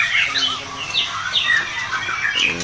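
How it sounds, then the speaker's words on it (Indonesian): A pet bird about to be packed for shipping to Surabaya calls with repeated chirps and squawks, close and fairly loud, amid a light background hum. "Ini dia burungnya bos."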